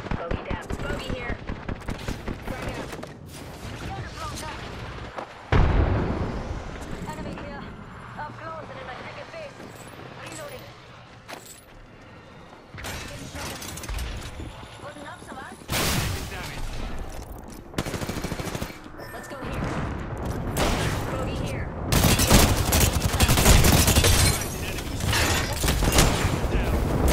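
Bursts of gunfire in Apex Legends, rapid automatic rattles and heavy blasts coming in repeated loud volleys across a noisy battle, with voices talking over parts of it.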